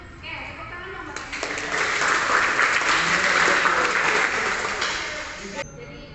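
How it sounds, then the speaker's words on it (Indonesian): A classroom of students claps together in sustained applause, loud and dense for several seconds before tapering off, with a voice talking faintly underneath. "tepuk tangan dong Bapak"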